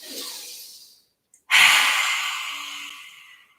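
A deep yoga breath drawn in, then after a brief pause a long, steady exhale that fades out gradually, close and clear with no talking.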